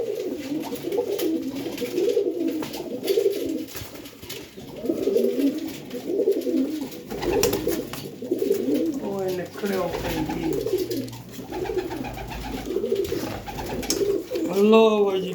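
Several domestic pigeons coo in soft repeating rolls at close range, with a low hum underneath and a brief burst of other bird calls near the end, during a pigeon check where red-headed Lal Cheena pigeons are being shown.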